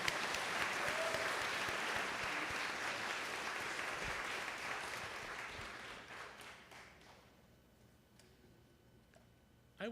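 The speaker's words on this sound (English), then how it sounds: "Let's give one more round of applause to our actors this morning." Audience at a worship service applauding actors, a dense wash of clapping that gradually thins and fades out over several seconds.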